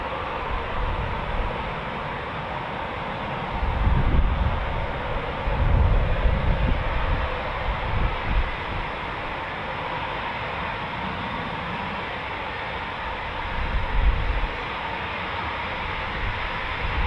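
Eurofighter Typhoon FGR4 fighter jets fly over RAF Coningsby, a broad distant roar with low rumbling swells rising and falling over a steady hiss.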